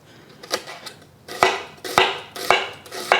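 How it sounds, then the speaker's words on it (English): Half an onion being sliced with a knife on a cutting board in a home kitchen: four or five crisp chopping taps at a steady, unhurried rhythm, close and clear, with no talking. "I have half an onion that I'm just going to slice"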